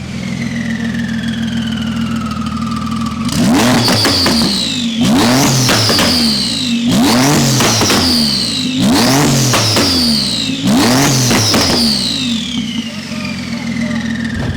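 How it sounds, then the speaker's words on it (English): A Porsche 992 Turbo S converted to roughly 1500 bhp and running on pump fuel revs hard on a dyno, with five loud, close bursts in a regular rhythm rising over a steady low hum. A brief voice is heard before the first rev. "Rio's 992 ES1300, we've had it on the dyno, we've been dialing it in on pump fuel to begin with."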